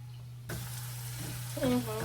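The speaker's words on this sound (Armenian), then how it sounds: "Ասենք սոխը տապակվի" Oil sizzles steadily in a pan as onion fries, with faint stirring, and a voice briefly speaks near the end.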